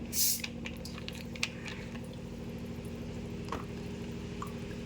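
A steady fizzing hiss of soda water poured into homemade lemon soda, with a brief pouring splash at the start and occasional small pops.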